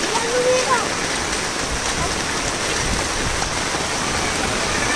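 Steady heavy rain hisses loudly and evenly throughout, like a dense downpour close by, with faint voices mixed in beneath.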